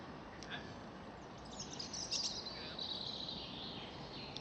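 Small birds flitting between garden hedges and a bird table give faint, high chirps and tweets that rise briefly in the middle, over a quiet outdoor hiss.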